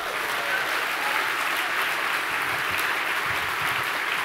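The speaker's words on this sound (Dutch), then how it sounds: "Ik wil zeggen, een warm applaus." Sustained warm applause from a large audience at a VVD party congress in the Netherlands, a steady dense wash of clapping held at an even level throughout, with no voices standing out.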